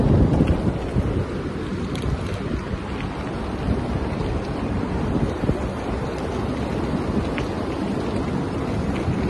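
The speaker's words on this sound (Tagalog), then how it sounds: "Malamig na yung hangin" Cold wind rushing over the microphone while cycling in Kuwait near the coast, a steady loud buffeting roar with gusty low rumble throughout and no voices.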